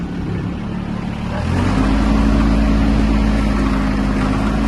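An Iseki TK-25 Japanese mini tractor engine runs steadily close by, its low rumble rising and firming after about a second and a half as it is put into reverse, then holding a constant drone to the end.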